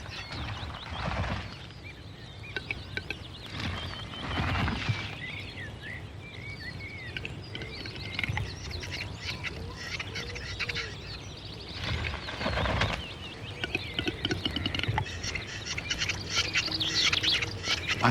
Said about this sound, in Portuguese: O tetraz macho é um pássaro impressionante.